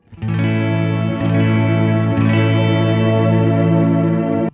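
Guitar through a reverb pedal on a darker tone setting, built for ambient soundscapes: a steady, washy sustained chord with chorus-like shimmer and a few soft re-attacks, loud and alone.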